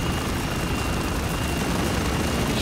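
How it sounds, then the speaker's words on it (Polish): Helicopters battling in the video game Spec Ops: The Line, a steady, loud wash of rotor and engine roar with rumbling low-end, continuous throughout with no talk. "Jakieś helikoptery się naparzają ludzie"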